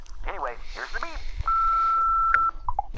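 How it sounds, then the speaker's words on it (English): A voicemail beep in a Jackbox video game sounds as one long, steady electronic tone lasting about a second, after a recorded voice speaks and before a few short tonal blips. "here's the beep"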